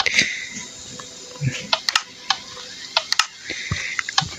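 Game water streams through an automatic rice farm, a steady watery hiss punctuated by sharp clicks and small splashing pops, with no talking.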